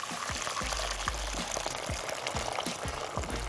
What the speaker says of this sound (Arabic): هحط ميه مغليه